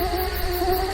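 Mosquitoes buzz with a steady, close, high-pitched whine that wavers slightly in pitch and holds without a break through a brief moment, with no voices.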